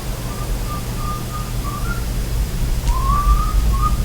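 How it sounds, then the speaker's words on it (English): A faint, wavering melodic whistle drifts in short phrases over a steady low hum, fading out midway before returning for a final rising tune. "He's whistling Christmas music."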